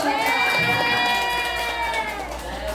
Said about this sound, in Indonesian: Ya, beri tepuk tangan ya betul.